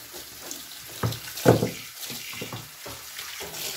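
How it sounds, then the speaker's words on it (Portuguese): Tap water runs and splashes over a Tupperware plastic dish drainer being rinsed at a kitchen sink, a steady close wash with a couple of louder bursts partway through and no talking. "Jogo água aqui."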